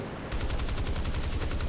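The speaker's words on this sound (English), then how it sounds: "So now we're going to strafe the command bridge here with the cannons." Rapid jet cannon fire from an aircraft strafing a ship's command bridge in the War Thunder video game, a loud, fast, evenly spaced burst that starts abruptly and continues steadily to the end.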